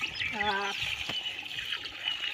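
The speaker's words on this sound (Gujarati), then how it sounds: "નદી છે ને કિંજલ જો છે પાણી કેન ભરે છે" A water can is filled at a river beside a village home on a cold morning. A steady trickling, pouring wash runs throughout, opened by a brief voice-like tone.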